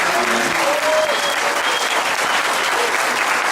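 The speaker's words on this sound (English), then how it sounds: "Let's clap for them, clap for yourself." Dense, steady applause fills the room as an audience claps for the women standing at a Race Unity Day celebration, loud and continuous with no voices rising above it.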